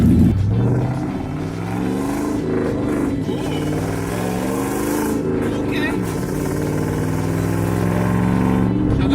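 A car engine matching a stock 2-valve 4.6 Mustang in size and power runs with a steady droning hum and a slight rise in pitch, close by, while a person talks over it.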